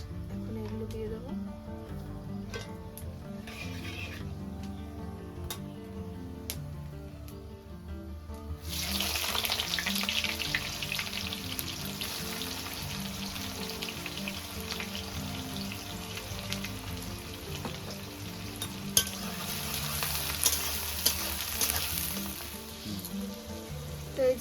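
Chopped onions hit a hot pan at about nine seconds, setting off a loud, steady sizzle that runs to the end over earlier quieter kitchen sounds, with a voice talking throughout.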